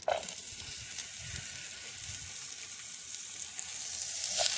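Nettles, wild onions, miner's lettuce and dandelion greens sautéing in butter make a soft, steady sizzle at close range, with a couple of faint clinks and no voices.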